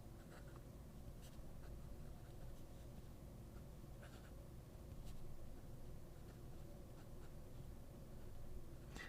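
A PenBBS 556 fountain pen with an extra fine nib scratching across paper, giving faint intermittent scratchy strokes over quiet room noise, close up with no talk.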